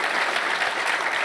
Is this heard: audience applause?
yes